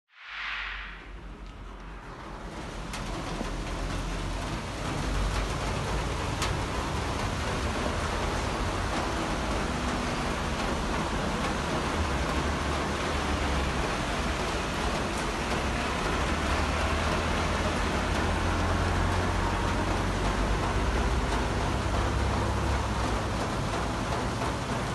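Steady rain falls continuously, an even hiss of drops that holds at the same level throughout, with no voices.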